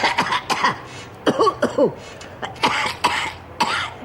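Repeated harsh coughs and throat clearing from a patient during a chest examination, close and fairly loud, coming in several bursts with short pauses between them.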